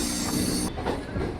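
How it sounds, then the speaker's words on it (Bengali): A Kolkata Circular Railway train runs along its route with a loud, continuous rumble and hiss heard from inside the carriage, and a steady rattle beneath it. "ট্রেনটা কি সুন্দর এঁকে বেঁকে চলছে।"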